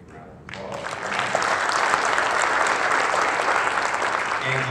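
Crowd applause at a North Rockland Central School District athletic awards ceremony honoring a student athlete, starting after a brief lull and swelling into steady, dense clapping from a large audience.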